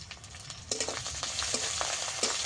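Fish frying with turmeric, chili and coriander powder in hot oil, a crackling sizzle broken by several sharp stirring scrapes and clicks, close, no speech.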